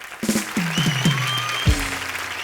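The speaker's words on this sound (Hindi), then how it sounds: "जोरदार तालियां हो जाएं" Audience applause at a comedy show, steady clapping from a crowd running under loud musical hits and stage sound.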